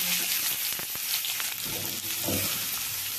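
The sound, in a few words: chicken frying in oil in a pan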